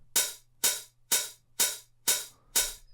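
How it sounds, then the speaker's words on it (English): Six evenly spaced hi-hat hits, each a bright crisp splash trailing into a washy reverb tail, steady rhythm without any voices. "we simply put a huge reverb on the hi-hat"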